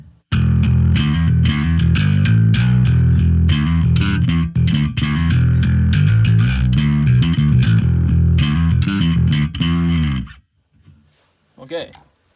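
A guitar played through a Boss distortion pedal into a Master Effects Super 300 preamp, loud and continuous with dense driven chords for about ten seconds, then a pause and a couple of brief notes at the end.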